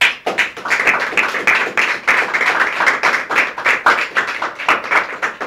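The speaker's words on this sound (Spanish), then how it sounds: "¿Cuánto le dan fuerte aplauso al Señor?" A church congregation applauding, many hands clapping together in a lively, steady burst of close, crisp claps with no talk over it.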